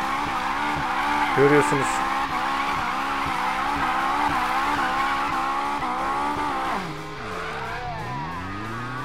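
A Honda S2000 in the game Need for Speed Payback drifts in donuts, with a sustained screech of tire squeal over a revving engine whose pitch rises and falls, while someone talks over it.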